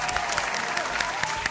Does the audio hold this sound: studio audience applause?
yes